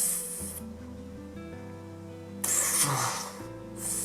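A fragrance sample sprayer misting perfume in short hissing bursts, one at the start, a longer one near the middle and another at the end, close and fairly loud over a quiet room.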